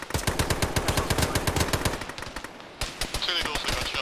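Gunfire in an Arma game session crackles as a rapid burst of sharp automatic shots, then dies into scattered pops and distant reports, with radio-like chatter and voices in the background.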